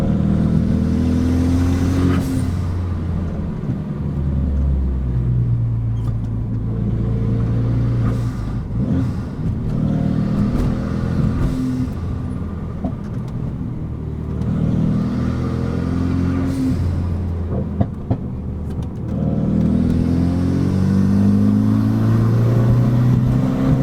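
Renault Megane RS RB8 project car engine revving hard as it accelerates up a winding mountain road, heard from inside the cabin, a steady loud drone with rising and falling pitch through gear changes.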